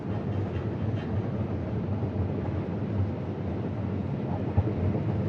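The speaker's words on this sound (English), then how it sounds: "So I'm gonna wait till the train goes through before I get under it." Train on an active rail line crossing a trestle near Toccoa, Georgia, a continuous low rumble and rattle heard steadily from nearby with some wind noise.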